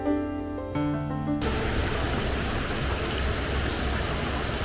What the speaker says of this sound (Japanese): 川の流れる音を聞きながら外の空気を味わいました。